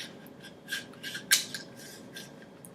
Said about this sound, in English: everything upside down, charging handle sits right back in